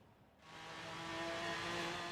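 A Pontiac GTO Judge muscle car in Forza Horizon 3 roars at sustained top speed, its steady engine drone building loudly after a brief quieter start and holding a strong, continuous tone.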